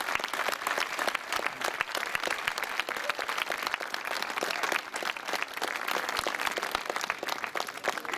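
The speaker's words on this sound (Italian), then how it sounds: "un applauso" A church congregation in Attigliano applauds to thank the bishop at the closing Mass of his pastoral visit. The clapping is dense and sustained, at a moderate level, and lasts about eight seconds without a break.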